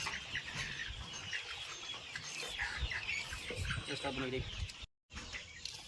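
Chickens cluck and chatter continuously and close by at feeding time, with faint voices mixed in.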